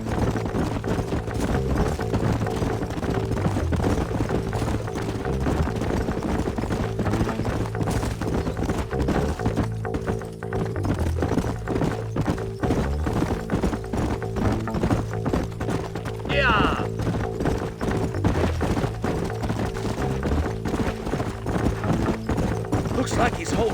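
Horses' hooves clip-clop steadily in the Red Dead Redemption video game as riders travel together, with occasional snorts and a brief whinny, under ongoing speech and background game sound.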